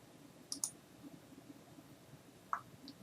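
Two soft, quick clicks of a computer mouse near the start, then a single sharper click a couple of seconds later, faint and close over a quiet room hum.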